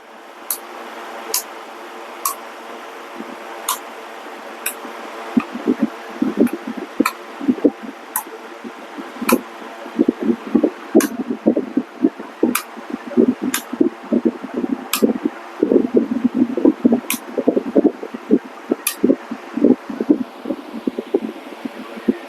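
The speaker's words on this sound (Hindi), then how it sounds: "अच्छा, ये तो बंद ही नहीं हो रहा है कूलर।" An air cooler fan runs steadily throughout with a continuous whooshing drone, while a rattling, clattering patter builds from the midpoint onward and sharp periodic ticks repeat along its length.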